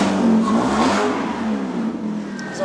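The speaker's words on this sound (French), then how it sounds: "c'est de faire ronronner son moteur." A car engine revs up loudly and close by, rising and then holding a steady growl.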